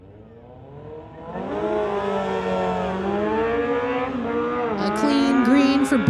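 Two motorcycles, a 2006 Suzuki and a 2016 bike, drag race at a street-legal event, their engines revving up in a loud, rising whine that holds and climbs, ending with a sharp high squeal.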